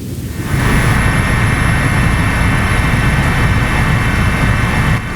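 A helicopter flies over a disaster-struck area of Nagan Raya, Aceh, where bridges are down and homes destroyed. Its steady engine and rotor roar holds loud and constant throughout, with no voices.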